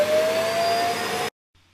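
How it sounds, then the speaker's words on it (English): A Neabot N1 Plus robot vacuum runs with a steady, close whirring hum and a faint high whine, then cuts off abruptly, leaving near silence with a faint low hum afterward. "we'll be taking a look at this robot vacuum from Neabot"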